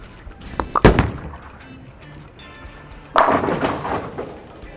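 A Storm Summit bowling ball thrown down a lane, a sharp thud as it lands followed by a rolling rumble and a louder crash of impact a few seconds later, heard alone at moderate distance.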